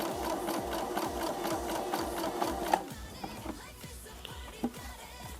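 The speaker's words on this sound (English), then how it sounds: "gonna do a really tight zigzag stitch down the whole side" A sewing machine runs a tight zigzag stitch down the side of a cosplay bodysuit, its needle chattering in a fast steady rhythm, then slowing to a stop with a few clicks near the end.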